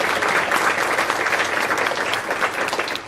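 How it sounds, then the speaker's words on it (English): An audience at a school board meeting applauds a school production cast once more, a thick, steady burst of clapping from a large group filling the whole short stretch. "I would like to give them a round of applause one more time."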